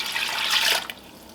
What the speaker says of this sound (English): I'm adding some water to this.